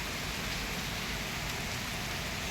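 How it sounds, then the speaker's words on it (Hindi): Heavy early-morning rain pours steadily, a dense, even wash of close patter with no voices and no breaks. "सुहाना क्या मतलब भयंकर बारिश हो रही है"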